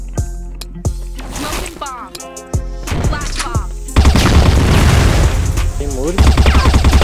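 Loud gunfire in a competitive shooting video game, single shots at first, then sustained rapid automatic bursts with booming impacts as a player rushes a position, with a voice talking over the action.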